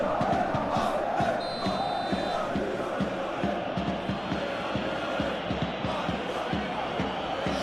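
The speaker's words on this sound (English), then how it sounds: "You can hear the annoyance in the crowd." A football video game crowd of PSG vs Marseille roars in frustration, a dense continuous stadium murmur with rhythmic chanting pulses and a brief whistle, constant and moderately loud.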